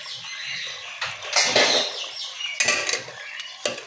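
Chana dal stir-fried in a pot for a chicken chana dal, with a spoon scraping and clinking against the metal in a run of close, uneven strokes over a steady sizzle.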